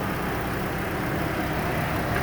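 A 2016 Dodge Caravan SE's 3.6 V6 engine idles smoothly under the open hood, a close, steady, even hum with no talk.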